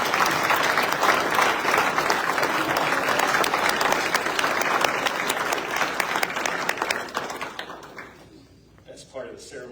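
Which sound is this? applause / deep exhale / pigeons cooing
applause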